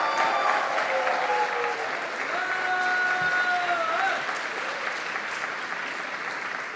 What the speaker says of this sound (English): can we have a thundering round of applause for Padmashri Kalpana ji